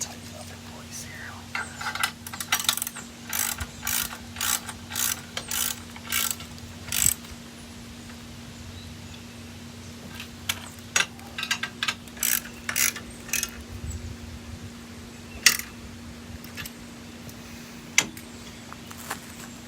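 A ratchet wrench tightens a ProPride trailer hitch in short rapid bursts of close, crisp clicking, pausing between strokes and then continuing in sparser clicks.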